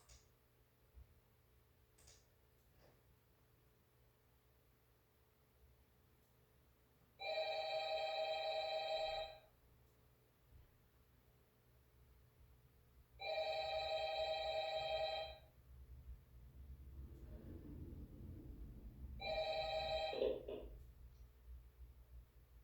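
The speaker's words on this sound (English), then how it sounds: "Phone call." An electronic telephone rings in three separate bursts with pauses between them, over a quiet, low hum, in the video game Five Nights at Freddy's.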